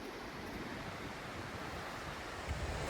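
Water rushing steadily past, a river running high and swollen after heavy overnight rain beside a walking path on the Southern Upland Way, a broad constant wash with some wind buffeting the microphone.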